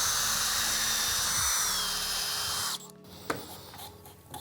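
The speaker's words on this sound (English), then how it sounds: "drill a series of overlapping holes between those two outer holes" A power drill whines steadily for a few seconds while boring overlapping holes in wood, then stops; afterward come a couple of brief knocks and faint rustling against a quiet background.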